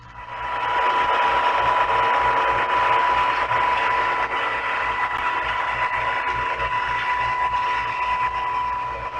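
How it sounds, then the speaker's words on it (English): A steady high-speed gear whine over a deep, droning PT boat engine rumble, constant and unbroken, with a sharp tonal note riding on top. "PT boat, with its powerful engines and high-speed gears, produces an easily recognized whine."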